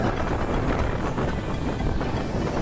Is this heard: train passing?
yes